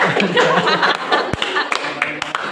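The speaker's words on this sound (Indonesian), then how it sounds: "Tepuk tangan." Clapping in a classroom after a group's presentation, a short burst of scattered claps from several people mixed with light chuckles and murmuring voices, ending in a few isolated claps.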